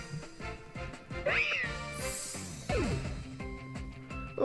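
Meowstic's cry rings out in Pokemon X as a cat-like meow, rising and sliding in pitch over bright electronic game music and sound effects, clear and fairly prominent.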